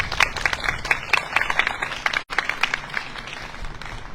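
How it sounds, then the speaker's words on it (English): Steady applause from an audience at an outdoor flag raising event, a dense patter of many hands clapping that briefly cuts out for an instant before continuing. "let's give another round of applause for Tanya for the beautiful rendition."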